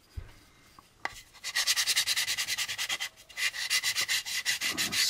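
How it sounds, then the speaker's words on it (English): Plastic model kit pieces from an AMT U.S.S. Enterprise kit are sanded by hand in quick, even back-and-forth rasping strokes, close and alone, after a brief pause and a tap. "That's where you're sanding."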